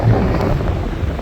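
Steady wind blows on a Florida beach, a loud continuous low rumble of buffeting air that hits the microphone throughout, with no voices.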